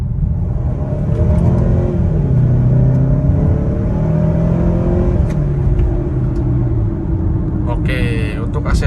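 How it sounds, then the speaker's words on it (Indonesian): A Mazda CX-9 pulls hard along a toll road, its engine note rising steadily under a constant road rumble heard from inside the cabin, with a voice talking over it. "Kita mau coba gas"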